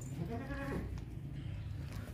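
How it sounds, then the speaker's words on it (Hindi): A large, tall two-toothed castrated goat gives one clear bleat near the start, a short wavering call that fades by about a second, then quiet farmyard background. "ऊंचा लंबा खूबसूरत, सबसे बड़ा बकरा है ये वाला"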